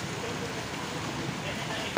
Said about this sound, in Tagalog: Hindi kasi tumigil din yung ulan.